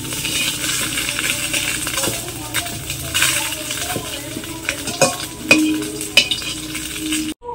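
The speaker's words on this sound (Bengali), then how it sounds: "মাছগুলো ভাজা হয়ে গেছে, এখন তুলে নেব" Small mourola river fish frying in oil in a pan, a soft continuous sizzle broken by repeated sharp clinks and scrapes of a metal spatula stirring, close and moderately loud.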